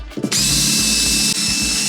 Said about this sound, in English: So we got a couple of stubborn screws and I will try to drill them out.